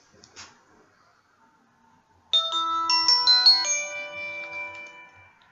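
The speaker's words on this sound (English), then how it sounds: "Spam phone call." Mobile phone ringtone from an incoming spam call: a bright, melodic chiming tune starts abruptly after a faint click and near-silence, plays loudly and close, then gradually fades.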